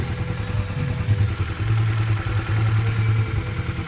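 Motorcycle engine idling steadily after carburetor fuel screw tuning, a continuous low rumble with an even, stable pulse, close and loud with no talk.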